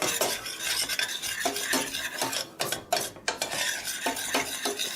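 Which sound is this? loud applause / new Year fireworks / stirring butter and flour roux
stirring butter and flour roux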